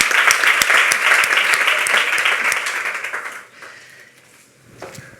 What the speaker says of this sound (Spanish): Un aplauso para Georgina González.